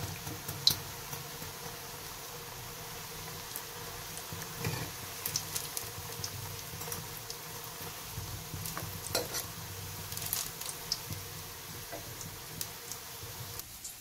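Steady, low sizzling and crackling of taro leaf fritters frying in hot oil, with scattered small pops and ticks throughout, no talking.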